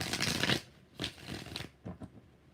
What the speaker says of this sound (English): 4 shuffles for Ashley Parks.